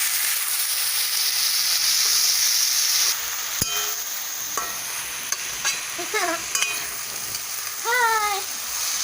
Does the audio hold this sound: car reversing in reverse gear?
no